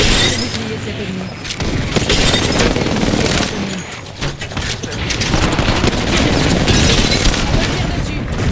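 Rapid video game gunfire crackles in dense, loud bursts and bangs through most of the stretch, with a player talking over the shooting.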